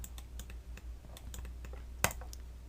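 Keys on a computer keyboard are tapped in quick, light clicks during 3D modeling work, with one sharper, louder keystroke standing out near the end in a quiet room.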